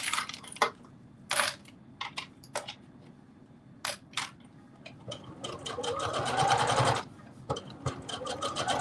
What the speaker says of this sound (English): sewing on this interfacing